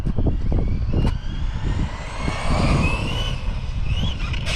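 A Traxxas Rustler 2WD RC car runs at about half throttle: a continuous close motor whine with rising and falling pitch and rough broadband rumble from the wheels across the ground, loud and steady throughout.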